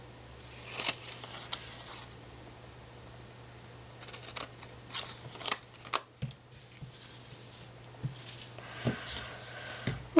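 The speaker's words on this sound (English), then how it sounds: "I'm going to go just cutting across the bottom of the tabs there" Scissors cutting paper tabs for a small inchie craft house, crisp snips in bursts with short pauses between them, close and clear over a steady low hum, with no talk.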